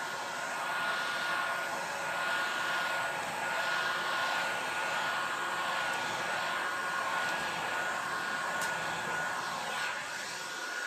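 A heat tool blows a steady, loud stream of hot air over a butterfly handle board, holding an even rushing hiss with a slight motor hum for the whole stretch, with no talk.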